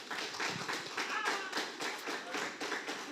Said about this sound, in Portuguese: Pode aplaudir o Senhor mesmo, pode aplaudir o Senhor.